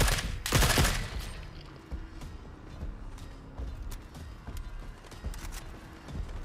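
Gunfire in The Forever Winter video game: an opening loud burst of rapid shots, then scattered distant pops and rattles of fighting over a low background rumble.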